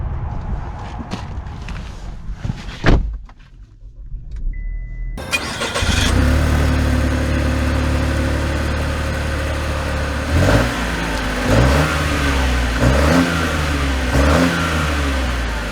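A Chevy Trailblazer Activ SUV engine cranks and catches after a quiet start, then settles into a steady idle broken by several short revs near the end.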